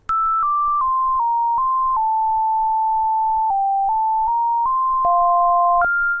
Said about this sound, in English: So that is the sound of 2 binary stars orbiting each other